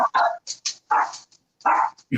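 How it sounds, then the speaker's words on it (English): Several dogs bark in short, loud bursts close by, a quick irregular volley of yaps and woofs with brief gaps between them. "Of course, the dogs start going nuts."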